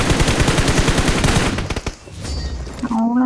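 Rapid bursts of automatic gunfire from the mobile shooter BGMI fill the first half, loud and dense, then thin out into scattered shots with game effects and a rising tone at the end.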